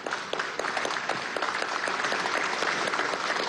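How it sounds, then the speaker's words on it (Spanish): Applause at a ceremony for the Rómulo Gallegos International Novel Prize, a room of people clapping steadily and evenly, moderately distant and continuous without any voices over it. "Bueno, un aplauso, vale."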